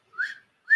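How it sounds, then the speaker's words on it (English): Two rising whistled notes from a person, a longer one followed after a pause by a short second one, fairly close and clear with no talking. "You whistle when you're dancing."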